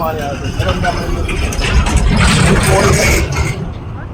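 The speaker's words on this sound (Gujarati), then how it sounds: "સામેની સાઈડે ટ્રેક્ટર ચાલે છે" A tractor runs steadily across a farm field, a low continuous engine rumble that swells slightly midway, heard at some distance with outdoor ambience.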